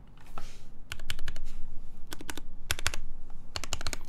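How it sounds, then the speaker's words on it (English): Typing on a Bakeneko65 mechanical keyboard fitted with NicePBT Sailor keycaps: close, crisp keystroke clacks in uneven bursts and quick clusters, with short pauses between runs. "The corner keys sound a bit off"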